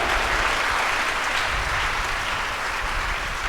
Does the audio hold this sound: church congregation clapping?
yes